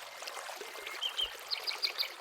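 Fast-flowing river water rushes steadily, a bright continuous hiss with small sparkling splashes throughout, close and fairly loud.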